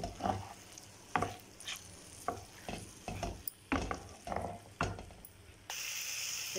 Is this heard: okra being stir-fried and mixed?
yes